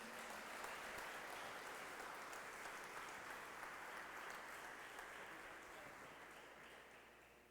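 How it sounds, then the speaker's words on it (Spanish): A church congregation bursts into steady, enthusiastic applause during a Spanish-language sermon, a continuous dense clapping that stays strong throughout and tapers slightly at the end. "Denle un aplauso al Señor entonces, pues."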